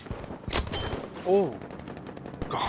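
A single sniper rifle shot cracks in Battlefield V gameplay, a sharp loud report followed by a brief echoing tail, with other game sounds scattered around it.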